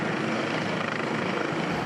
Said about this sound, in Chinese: 自直升机顶头降落